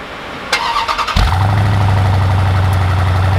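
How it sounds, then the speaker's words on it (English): A 2020 Jeep Grand Cherokee SRT fires up by remote start: a few clicks and a whirring crank, then a sudden loud engine catch that settles into a steady, deep, close idle with no talk. "So if we remote start this one, we can hear it start up."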